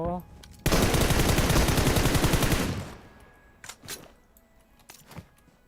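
Rapid automatic gunfire from a skinned gun in PUBG Mobile, a loud sustained burst of about two seconds, followed by a few scattered, fainter single shots and clatter.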